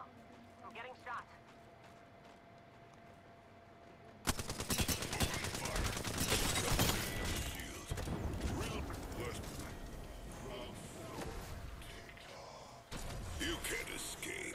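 Gunfire in Apex Legends, with a dense, sustained burst of rapid shots and mechanical clatter that starts abruptly and then drops off, heard alongside in-game voices.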